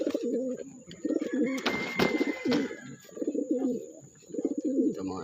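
Racing pigeons coo in deep, repeated throaty phrases close by after being released, with a short flurry of flapping or rustling midway and a faint thin tone in the background.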